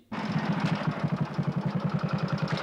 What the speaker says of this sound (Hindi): नई मोटरसाइकिल ली है